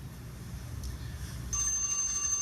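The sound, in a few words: bell enforcing public comment time limit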